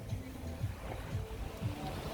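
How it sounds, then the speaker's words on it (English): Ocean waves wash onto a beach in a steady low rumble with soft rhythmic surges, under a continuous background hiss. "listen to the waves"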